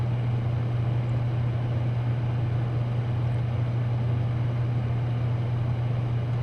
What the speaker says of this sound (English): This is the sound that the hot tub,